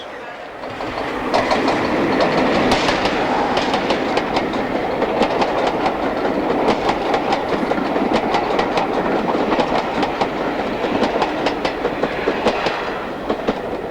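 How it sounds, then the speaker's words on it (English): A train pulling out toward Tilbury Docks rolls along the rails close by, its wheels clicking in a rapid, regular clickety-clack over a loud, continuous rumble. "soon the train is pulling out and headed for Tilbury Docks"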